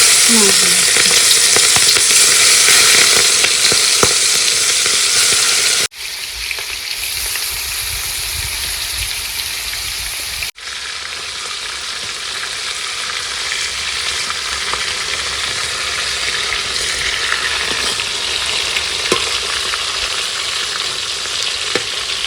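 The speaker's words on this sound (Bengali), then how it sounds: "মাছ ভাজা হয়ে গেছে তুলে দিই" Turmeric-rubbed fish fries in hot oil with a loud, steady sizzle that runs the whole time, with a few brief drops in level where the pan is disturbed and occasional stirring scrapes. No one speaks.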